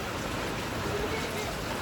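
Steady hiss of rain during a sudden windstorm at a house, a broadband wash throughout, with voices talking over it.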